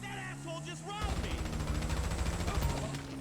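Gunfire in a GTA V zombie mod, a fast run of sharp repeated shots rattling out after a brief lead-in, set against a steady tonal game background.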